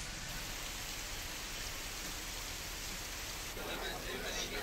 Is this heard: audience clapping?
no